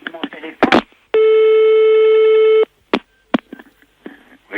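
A telephone in a comedic prank call sounds one long, steady electronic tone, loud and close, with brief bursts of talking and handling noise before and after it.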